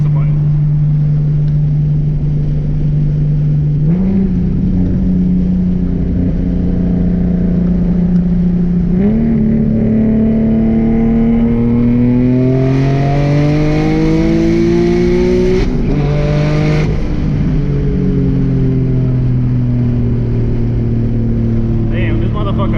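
A turbocharged Nissan 370Z pulls hard on a dyno, its loud engine note climbing steadily through the gears with brief dips at each shift, then easing off to a lower drone near the end.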